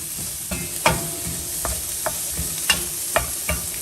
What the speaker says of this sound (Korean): 양파랑 마늘을 먼저 넣고 향이 나도록 한 30초 정도 볶아주세요